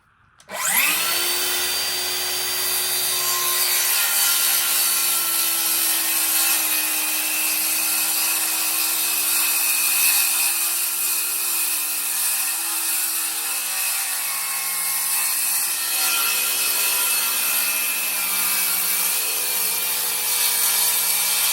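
Power sander working on a wooden condiment spice box, a loud continuous motor whine starting abruptly and holding steady with slight pitch shifts as it presses against the wood, close and alone.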